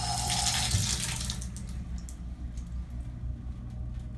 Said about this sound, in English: And here's the shower. I guess we'll turn it off.